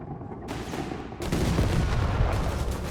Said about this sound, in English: Shots fired at the Panzer Pioneer.